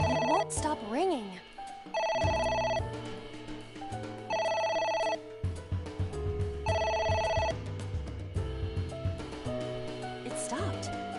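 A phone rings insistently in AI: The Somnium Files, its electronic trill sounding in evenly spaced bursts about every two seconds over a low game soundtrack, ending in a few short scattered tones.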